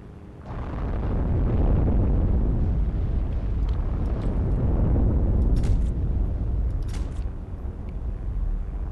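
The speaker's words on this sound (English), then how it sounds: "Eat my fucking grenade." A grenade detonates during a fight defending an airfield in Heroes & Generals: a heavy blast swells into a long, deep rumbling roar that lingers for several seconds, with faint crackles scattered over the tail.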